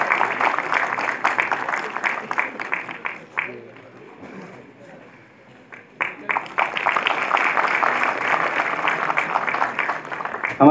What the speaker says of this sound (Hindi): आप भी जोरदार तालियों के साथ हमारे सम्मानित अतिथियों का स्वागत करें।